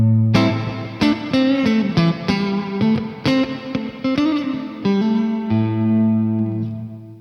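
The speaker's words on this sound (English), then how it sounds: "Here's reverb A, which I used in that intro riff." Electric guitar through an amplifier with a reverb pedal set to a noticeable wash, playing a picked riff whose notes blur and ring into one another, ending on a long sustained chord that trails away.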